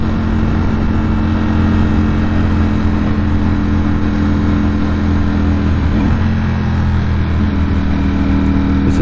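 A 2021 Ducati Streetfighter carries its rider along an open road, the engine droning loud and steady with a low rumble and brief shifts in pitch, wind noise constant and no talk.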